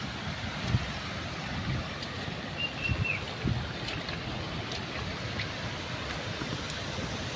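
Floodwater rushes after heavy rain burst a dam, a constant broad roar of fast-moving water with faint wind buffeting and no voices.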